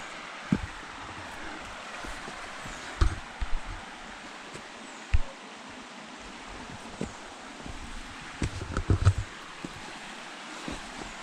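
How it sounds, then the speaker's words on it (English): Water from a mountain stream on the Touws River walking trail splashes over rocks as a steady broadband rush, with a few sharper knocks and rustles standing out briefly above the flow. "sound of water. Splashing against the rocks."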